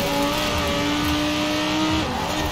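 An Italdesign Zerouno race car engine drones at high revs in Forza Horizon 4, a loud, steady roar with a slight pitch dip near the end and no talk.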